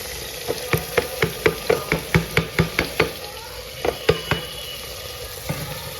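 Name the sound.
chopped vegetables added to pan and fried for dal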